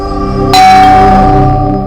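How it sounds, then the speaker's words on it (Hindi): A doorbell rings once with a sharp bright onset, then sustains and slowly fades, loud and near in an indoor setting over a steady background hum. "घंटी की आवाज तो सुनाई दी थी।"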